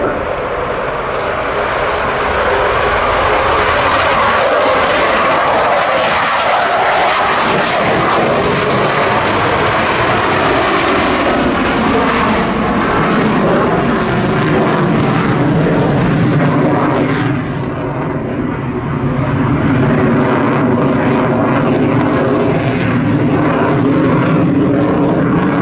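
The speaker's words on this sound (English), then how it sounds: "this is the F-18 Hornet" A Boeing F-18 Hornet jet roars past at the RIAT airshow, a loud sustained engine blast whose pitch sweeps and shifts as it flies by, with a commentator talking beneath it.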